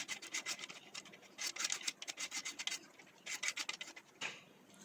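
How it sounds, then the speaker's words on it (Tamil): A hand peeler shaves the skin off a raw green banana in rapid scraping strokes, a dry rhythmic rasping that comes in quick bursts with short pauses between them. "பீலர் கட்டர் வச்சு இந்த மாதிரி தோலை சீவி எடுத்துக்கோங்க."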